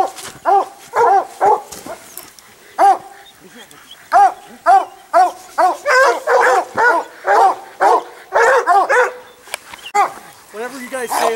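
Several hunting dogs bark loudly and repeatedly in ragged bursts during a mountain lion hunt, near and overlapping, with occasional yips and whines between volleys.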